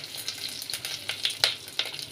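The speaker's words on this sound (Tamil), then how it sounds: "கருவேப்பிலை வெங்காயம் பொடலங்காய் எல்லாம் போட்டு தாளிக்க போகிறேன்" Curry leaves, onion and snake gourd frying in hot oil for a South Indian tempering, with a steady close sizzle and crackle and a few sharper pops and spits rising over it.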